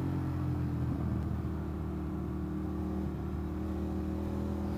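An Indian FTR 1200 motorcycle engine hums steadily while riding, a low continuous drone with faint wind noise and no speech.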